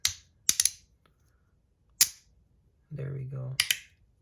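A fidget toy made of plastic pieces gives a few crisp, close clicks, first one, then a quick double, then another, with a brief spoken remark before a final pair of snaps.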